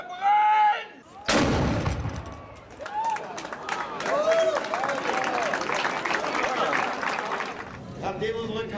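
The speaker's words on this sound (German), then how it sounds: "Das Freischießen wird wieder mit 6 Böllern eingeschossen." A ceremonial cannon salute opens a historic shooting festival in Wennigsen, with a loud, sharp blast followed by a crowd cheering and clapping, while voices talk before and after.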